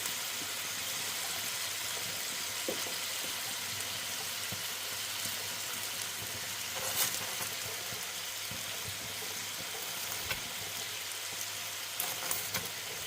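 Chicken and peppers frying in a pan with soy sauce, a steady bright sizzle that keeps going throughout with a few louder crackles and spits, close up and with no talking.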